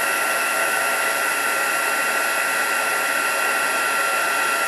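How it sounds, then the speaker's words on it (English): A heat gun runs steadily while melting embossing powder on a card, giving a continuous airy blowing roar with a bright hiss, close and even throughout without pause. "while we've still got the heat gun going"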